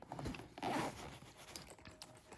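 A quick, close zipper rasp opens a small pouch, followed by faint handling rustles.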